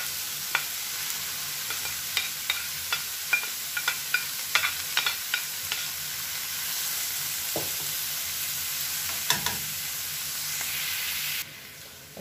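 Leeks sizzle in a hot pan while being stirred, with sharp utensil scrapes and clicks repeating over a continuous frying hiss that cuts off near the end.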